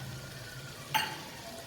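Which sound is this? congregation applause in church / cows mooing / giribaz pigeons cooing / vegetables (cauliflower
vegetables (cauliflower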